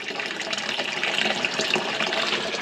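Water running and splashing into the tank of a ground source heating system, a steady close hiss and trickle with no talking.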